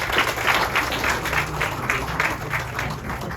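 An audience at a past presidents and awards day gathering breaks into close, dense applause, many hands clapping steadily at an even level throughout.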